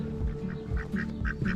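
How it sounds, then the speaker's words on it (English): A duck gives a run of short, soft quacks and murmurs close by outdoors, the calls repeating every few tenths of a second over a low background rumble. "here's my little duck friend"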